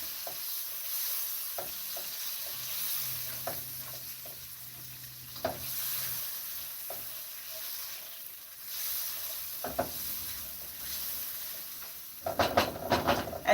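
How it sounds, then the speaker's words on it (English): Peppers sautéing in a wok give a soft, steady sizzle with intermittent clicks and scrapes of stirring, growing louder with clattering utensil strokes toward the end. "I'm just going to saute this in my wok for a few minutes until my peppers are"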